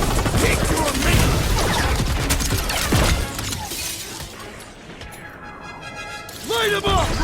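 Bursts of gunfire and shattering impacts crash through a chaotic battle in the game Guardians of the Galaxy, loud and dense at first, then thinning out as a voice cries out near the end.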